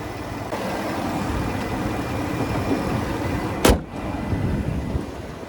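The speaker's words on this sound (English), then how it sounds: "5-liter naturally aspirated V8 engine there" A 5-liter naturally aspirated V8 in a 2019 Ford F-150 XLT idles steadily with a low, rumbling hum, broken once by a brief sharp click or thump before the rumble continues.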